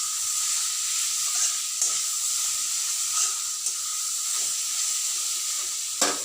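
Mango thokku being stirred as it fries in a pan, a steady close sizzle with a bright steamy hiss throughout and occasional scrapes of the spoon against the pan, no voices.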